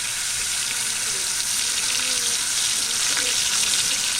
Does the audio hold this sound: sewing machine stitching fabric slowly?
no